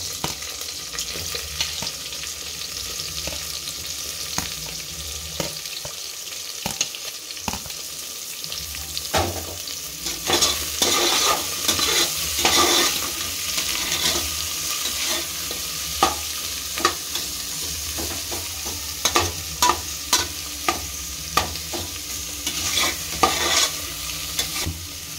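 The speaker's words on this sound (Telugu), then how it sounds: "అంతవరకు కొంచెం స్లో ఫ్లేమ్లోనే పెట్టి వేయించుకోవాలి." Onions frying on a low flame in a pan for bagara rice, a steady soft sizzle broken by frequent scraping stirs that grow busier midway, with no talking.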